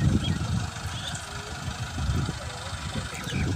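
A Massey Ferguson 385 4x4 tractor engine runs at a steady low idle-like rumble on soft farmland, continuous and moderately close, with some background voices.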